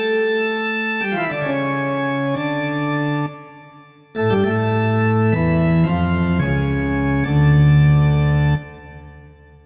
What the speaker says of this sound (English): Here's the sound of a full pipe organ.